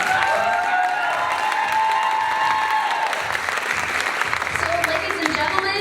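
An audience at the Mrs Oregon 2017 pageant claps steadily, a dense, sustained round of applause with a little cheering mixed in, and a host's voice is heard over it.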